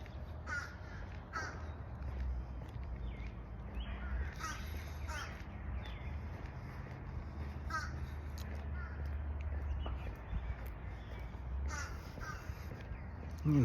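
A crow caws outdoors in a series of short, harsh calls spaced several seconds apart, moderately near, over a low steady rumble of outdoor background noise.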